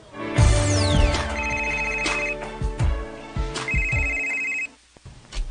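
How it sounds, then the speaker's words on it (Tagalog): A cellphone ringtone for an incoming call plays a loud, bright electronic melody with repeating tones, sounding for several seconds before cutting off abruptly. "Uy, may nanawag man sa akong cellphone."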